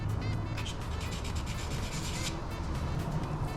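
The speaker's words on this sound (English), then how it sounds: "I've got 1000 grit sandpaper here. I'm just going to rub it lightly, just like that." A diesel fuel injector from a Jeep KJ V8 is lightly rubbed with 1000 grit sandpaper, giving a close, continuous scratchy rasp in steady back-and-forth strokes with no talking.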